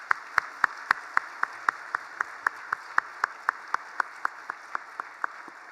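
Congregation clapping for graduates at a church Bible-study completion ceremony during a Christmas-season worship service, distinct sharp claps in a steady, fairly even rhythm, moderately loud and close, with no talking over it.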